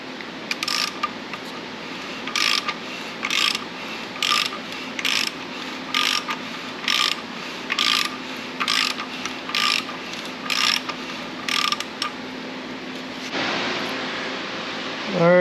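An LS V8 engine from a junkyard, being built for a 1992 Firebird, is turned over slowly by hand, producing a rhythmic series of about a dozen clicking, ratcheting bursts over a steady low hum, close to the listener.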